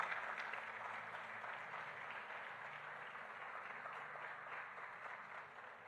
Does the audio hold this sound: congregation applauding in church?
yes